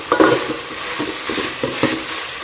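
Onion, ginger garlic paste and tomato being sautéed for veg biryani, with a few close, loud spatula scrapes and stirs over a steady sizzle, heard alone without talk.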